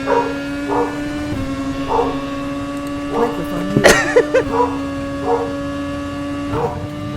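A dog barks in short repeated bursts over a racing radio channel during a sim-racing championship round at the British Grand Prix, with steady electrical hum underneath and a few brief voice-like sounds in the middle.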